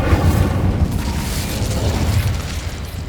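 A dense, rumbling fire blast from the Incendio spell in Hogwarts Legacy, a sustained roaring burst during a goblin attack on Feldcroft, loud and steady throughout.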